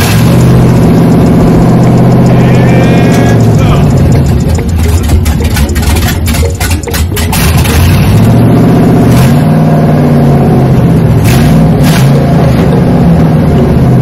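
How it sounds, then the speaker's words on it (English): An LS-swapped 1984 Chevrolet C10 fires up from cold, its V8 loud and close, roaring through revs and settling into a rough, lumpy idle with bursts of throttle, steady and dominant throughout. "Cold start. I'll let the fuel pump start up."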